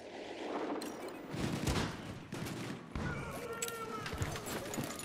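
Video game gunfire rattles in continuous, fairly loud bursts with booms mixed in, with a voice talking over the shooting throughout.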